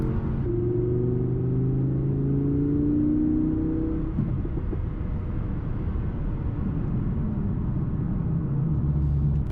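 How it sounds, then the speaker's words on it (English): Audi R8 V10 plus with its sports exhaust in sport mode, giving a loud, steady, deep engine burble and rumble that holds throughout with a slight rise in tone early on, no voices over it. "then you can hear the fabulous note of the sports exhaust."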